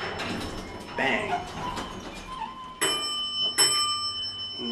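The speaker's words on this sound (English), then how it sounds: "And here's your down chime." Two clear chime tones ring out as the elevator signals it is going down, following rumbling car and door mechanism noise and brief talk.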